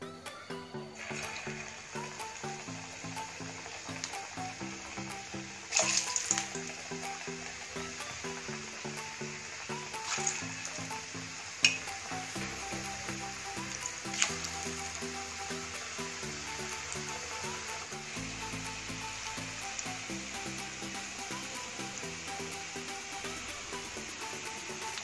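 Cauliflower pakoda fries in hot oil over a medium gas flame in a home kitchen, giving a steady soft sizzle and bubbling throughout, with a few brief clinks and a quiet background hum.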